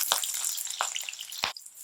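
Mustard seeds, lentils, green chilli and shallots fry in hot oil with a steady close sizzle and crackle, broken by three sharp spoon clinks against the pan.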